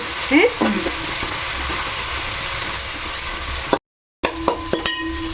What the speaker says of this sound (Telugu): ఇప్పుడు పుదీనా వేసేస్తున్నాను ఓకే మన పుదీనా ఆయిల్లో వేగిందనుకో